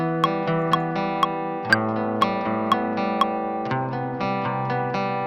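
Plucked acoustic guitar notes ring out in a steady melody, washed in a spacious, wide stereo reverb with bright repeated accents and sustained tails.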